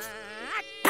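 A cartoon fly buzzes close by in a thin, wavering whine that bends in pitch for about half a second, followed after a short gap by a brief noisy burst.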